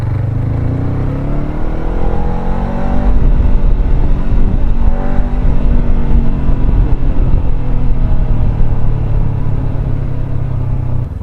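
A Honda big bike of 500 cc or more rumbles loudly and close, rising into a throaty rev midway and then settling back to a heavy, steady engine drone throughout.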